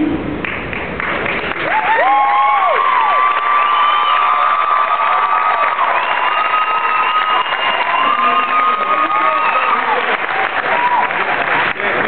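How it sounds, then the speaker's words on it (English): Loud applause and cheering from an audience honoring graduates, with whoops and shouts rising after a brief start and continuing strongly throughout, a few voices calling out above the clapping. "Deserve an extra round of applause."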